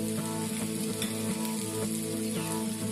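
Garam masala and chilli powder fry in a pan for a vegetarian bread ball curry, giving a steady close sizzle with soft stirring scrapes at regular intervals and no talking.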